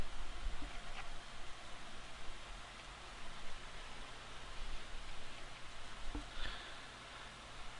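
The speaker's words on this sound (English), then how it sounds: "I'm running a fan again" An electric fan hums steadily and faintly in a quiet room during an online poker session, a broad even whoosh running the whole time with no talk.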